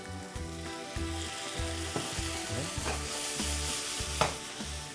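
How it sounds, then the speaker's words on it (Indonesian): Carrots in a hot pan with a little water added sizzle and are stirred, with a continuous hiss under repeated scraping and clattering strokes and a low tonal hum underneath, no voices. "Setelah panas kayak gini, sekarang kita bisa tambahkan dengan sedikit air"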